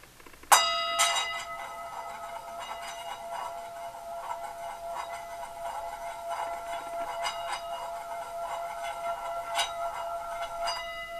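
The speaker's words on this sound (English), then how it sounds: "It's like a really meditative sound. You can hear it rings out for a while." A Tibetan healing bowl is struck a few times as background ambience in a beat, each strike leaving a clear metallic tone that rings on and slowly fades, moderately loud with no talking.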